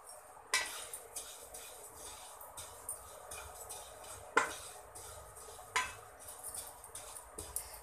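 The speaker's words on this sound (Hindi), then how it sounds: "ये देखिए, अब हम भूनेंगे सौंफ," Fennel seeds are dry-roasted in a pan for homemade spice mix, with a metal spoon clinking and scraping against the pan in irregular taps and a few louder knocks, fairly faint and without talk.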